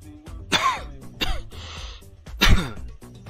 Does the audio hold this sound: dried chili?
no